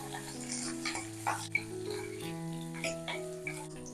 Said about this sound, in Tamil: எண்ணெயில் வெண்டைக்காய் வதங்கட்டும்.